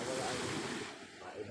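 Sea waves wash and hiss on a beach at close range, with wind buffeting the microphone in a brief, loud rush of surf.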